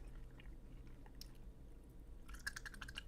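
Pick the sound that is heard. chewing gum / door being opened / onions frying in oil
chewing gum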